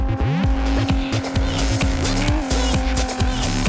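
Race cars in the video game Onrush roar at full throttle with repeated tire squeals and skids, loud and close. Engine revs rise and fall rhythmically throughout.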